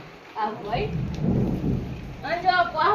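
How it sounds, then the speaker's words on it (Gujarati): A thunderstorm with heavy first monsoon rain falls on a house in Kheda district, Gujarat, where water is coming indoors. Low thunder rumbles beneath steady rain while voices speak briefly. "પહેલા વરસાદમાં પાણી આવી ગયું ઘરમાં."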